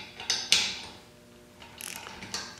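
A wrench ratchets on bolts being loosened, giving short clicking bursts separated by pauses, close and fairly quiet with no voices.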